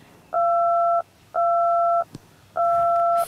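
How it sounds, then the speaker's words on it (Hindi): Telephone keypad tones beep three times in an even rhythm, each a steady dual-pitched tone lasting well over half a second, loud and clear with short gaps between and no talk. "फोन कहीं को नहीं लग रहा।"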